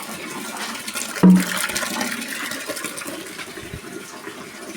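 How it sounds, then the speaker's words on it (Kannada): Water pours into a tray used for setting rubber latex along with milk and acid on a rubber farm, a brief gush followed by a steady wash of splashing at moderate loudness with no talk. "ಟ್ರೇಗೆ ಹಾಲು ಹಾಕಿ ನೀರು ಹಾಕಿ ಆ್ಯಸಿಡ್ ಎಲ್ಲ ಹಾಕಿ ಆಯಿತು"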